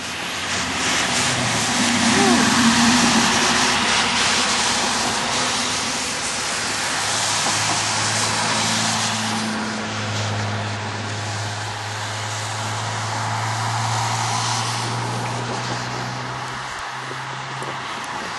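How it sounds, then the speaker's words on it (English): Traffic passing along snowy, slippery Adelaide Street in London, Ontario, a steady broad rumble of vehicles that swells and fades as they go by, with low engine drones underneath, fairly near and continuous. "Definitely more traffic here than we'll have to deal with."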